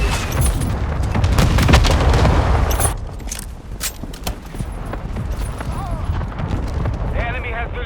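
Mortar strike explosions in Call of Duty Modern Warfare gunfight, a loud booming burst with heavy low rumble in the first three seconds, then quieter battle noise and game callouts continuing.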